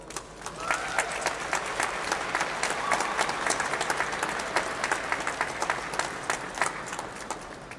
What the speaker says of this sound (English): giving you all a well-deserved round of applause